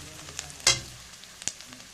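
Garlic dropped into hot oil with onions already fried golden brown, cooking ghughni: a soft, steady sizzle broken by two short, sharp clinks of a utensil against the pan.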